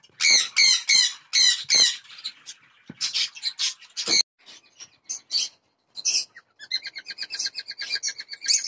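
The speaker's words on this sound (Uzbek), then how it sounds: "Mana ular juftlash niyatida, bosish niyatida sayrab raqsga tushdi." Pet corella parrots squawk and call in close, loud bursts: harsh repeated screeches at first, then scattered chirps and a fast run of shrill chattering notes toward the end.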